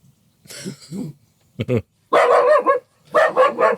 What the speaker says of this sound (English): Oh, it's because you saw the dog.